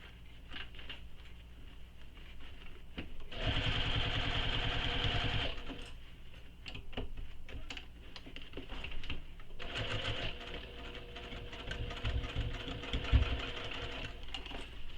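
Sewing machine stitching a fabric crossbody bag, running in two steady bursts of motor whir and rapid needle patter with a short pause and quieter handling between them.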